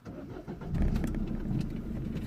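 A Citroen C3 1.6 HDI diesel engine restarts after cutting out, catching with a short crank and swelling into a steady, loud running rumble close by.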